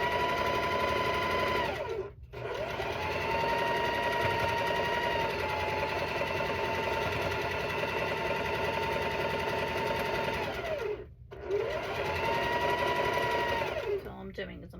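A sewing machine runs in long continuous bursts of fast, even stitching while joining quilt rows, loud and close, halting twice with a brief pause before starting again.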